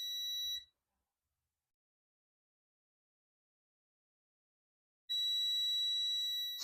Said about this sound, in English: You can see it's beeping.